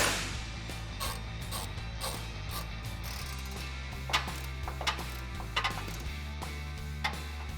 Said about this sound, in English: tighten down these top two with the ratchet